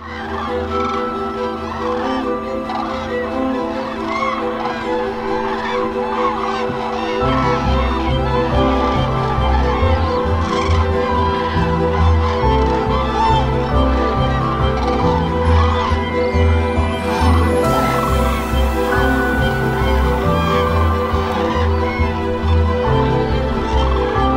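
Wintering common cranes call at Lac de Puydarrieux, a dense chorus of many overlapping trumpeting, rolling cries from a large flock that fills the whole stretch, with a low rumble that deepens partway through.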